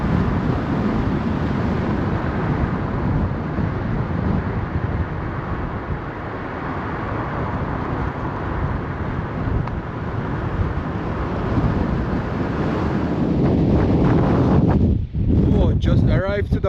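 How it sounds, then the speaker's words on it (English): Strong wind at a mountain parking spot, buffeting the microphone in a loud, continuous roar with gusts rising and falling and a brief dip near the end. "It's super windy here"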